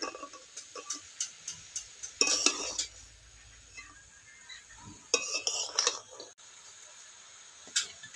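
A spoon clatters against a pot while taro stems and chickpeas with salt are stirred, giving sparse clinks and two louder scraping bursts in a quiet kitchen with no talk.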